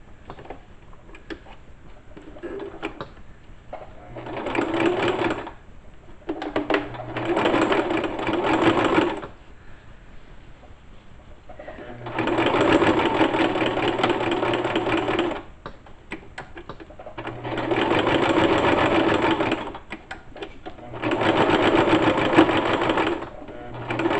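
A sewing machine stitches fabric for a pair of ladies' panties in loud, steady bursts of whirring, each lasting a few seconds and separated by short pauses, with no talking over it.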